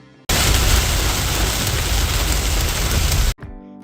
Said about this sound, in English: For a lot of the time it was raining.